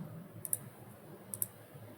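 A computer mouse clicks while a sticker design is being traced, two quick pairs of faint, sharp clicks spaced about a second apart over a quiet background.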